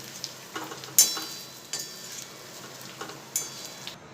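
A spoon stirs steamed patra rolls into a hot tempering in a pan, producing a few sharp metal taps and scrapes at irregular intervals over a soft, faint sizzle.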